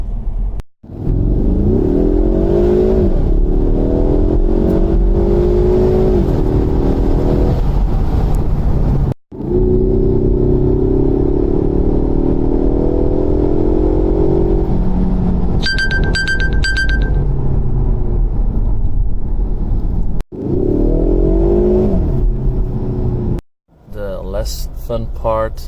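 A Ford Mustang with an automatic transmission accelerates hard, its engine pitch climbing through several long, loud pulls split by short gear-change gaps, heard from inside the car along with a few brief beeps.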